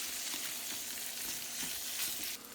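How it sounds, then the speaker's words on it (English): Pork ribs stir-frying in hot lard over medium-low heat give off a steady, close, crackling sizzle that continues evenly throughout with no voices. "add the ribs. At this time, turn on the heat to medium-low and stir-fry slowly"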